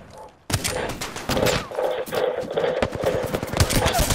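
Rapid gunfire bursts from Apex Legends, firing in quick volleys after a brief quiet start and continuing loudly throughout, with a voice talking over the shots.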